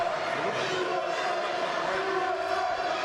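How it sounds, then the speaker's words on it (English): A wrestling arena crowd at The Sheik vs. Bobby Wolfert match chants USA, a distant, rhythmic mass of voices that rolls on steadily for a few seconds, fairly faint. "Crowd beginning to chant USA."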